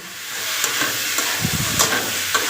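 Chicken legs sizzle steadily in a hot pan for a Bengali-style curry, with a few scraping stirs of a utensil cutting through the continuous frying hiss, close and fairly loud.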